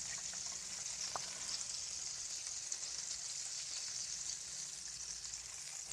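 Chicken wings frying in hot oil, a steady dense sizzle and crackle throughout, close and even, with a faint clink near the start.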